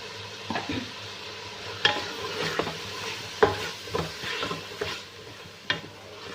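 Cut potatoes tossed into fried masala in a pan, a soft steady sizzle with spoon scrapes and stirring knocks at irregular intervals, close and fairly quiet.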